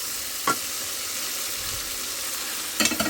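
Tomatoes and vegetables such as potato, eggplant, beans and radish sautéing in a pan, a steady close hiss of frying broken by two brief scraping stirs near the start and end.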